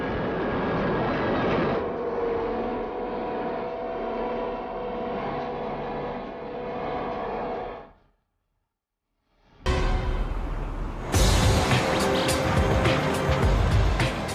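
A heavy road train truck engine labours steadily under strain hauling 406 tons up a steep gradient, a loud continuous drone that cuts out briefly to silence before returning louder and rougher.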